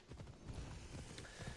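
Horse hooves clip-clopping in a quick gallop in the video game Assassin's Creed Odyssey, a fast, steady rhythm of muffled thuds over a low background rumble.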